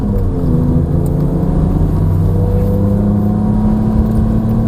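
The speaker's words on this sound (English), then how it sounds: "cruise down to the bottom of the hill and get me up to third gear" A Ferrari on a track experience pulls away with a steady, loud engine drone and rising tones heard from inside the car, continuous with no clear break for the gear change and no one speaking.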